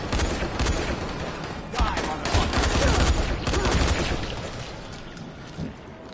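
Rapid bursts of gunfire from the video game Dying Light, loud and dense with overlapping automatic shots and booms across the whole stretch, a player's voice faintly under it.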